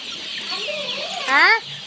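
Chickens cluck close by, a few short rising calls followed by a louder, quavering cluck, with quiet farmyard background.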